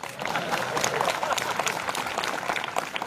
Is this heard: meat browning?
no